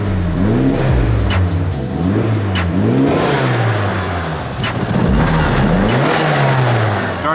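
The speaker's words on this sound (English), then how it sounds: "now the car is running much better" BMW engine after a tune-up, running and revving in repeated rising and falling surges, loud and close, with a low idle between the revs.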